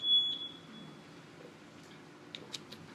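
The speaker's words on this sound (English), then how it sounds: "That was a fire alarm." A brief high-pitched fire alarm tone sounds faintly at first, then fades, leaving quiet background noise with a few small clicks.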